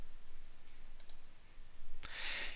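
A computer mouse gives a couple of soft, quick clicks, followed by a sharper single click, close and quiet against a faint background hiss.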